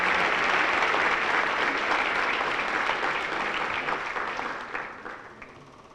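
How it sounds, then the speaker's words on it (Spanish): Warm, sustained applause from an audience at an academic award ceremony in honor of remembered colleagues. The clapping is dense and fairly loud, then fades gradually toward the end. "Quisiera un aplauso para ellos"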